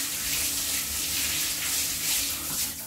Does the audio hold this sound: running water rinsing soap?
yes